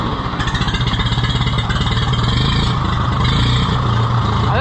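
An Oliver 66 tractor engine runs steadily on its own at close range, with a slightly uneven, pulsing idle.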